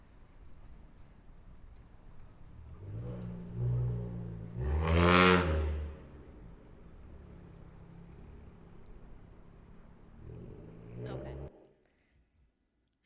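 A loud car passes a street noise camera, its engine roar rising to a sharp peak around mid-clip and then fading, with a brief second vehicle burst near the end; no one talks.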